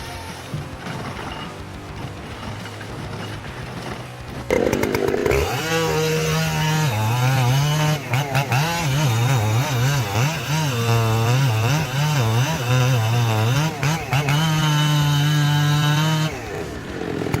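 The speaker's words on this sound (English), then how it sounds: "The roar of the chainsaw shattered the stillness of the ancient forest." A chainsaw idles briefly, then revs to a loud, snarling whine that rises and falls as it bites through wood in a forest, dropping back near the end.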